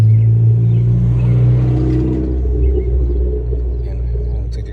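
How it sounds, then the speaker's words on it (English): A car rumbles past nearby, its engine noise swelling and then slowly fading as it moves away. "hear that car coming back."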